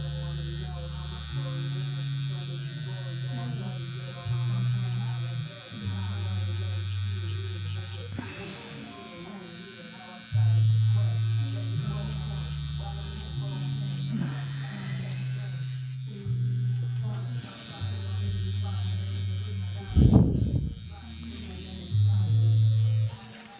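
A tattoo machine buzzes in steady bursts while whipping strokes build hair texture on a lion tattoo, a close electric hum that shifts pitch between passes, with a brief sharp noise near the end.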